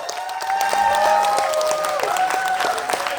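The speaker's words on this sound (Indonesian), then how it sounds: "Sekali lagi boleh beri tepuk tangan yang meriah." Audience applause fills a theatre at the close of a stage performance, steady sustained clapping with a few whoops and some vocal tones over it, loud and close throughout.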